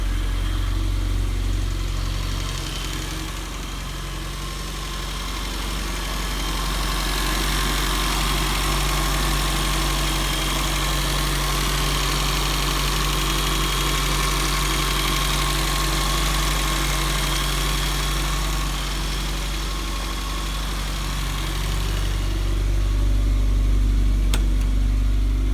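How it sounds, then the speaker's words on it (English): A 1970 Mini Countryman estate idles steadily at close range, its low engine rumble continuous and even, with a faint thin supercharger whistle riding on top throughout. "Hear the turbo whistle just a little bit. Excuse me, the supercharger whistle."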